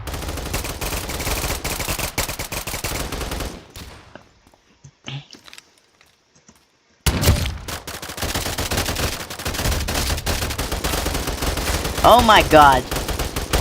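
Rapid bursts of gunfire from Roblox gamepass weapons in a video game, dense and loud, cutting out briefly in the middle before resuming with heavy automatic fire and a short exclamation.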